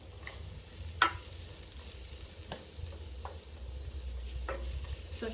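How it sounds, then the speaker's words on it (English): Onions and potatoes sizzle quietly in a pan for a vegetarian breakfast burrito, with a low continuous fry broken by a few sharp scrapes and clicks of stirring. "let the onions and the potatoes cook some more until the potatoes are completely done"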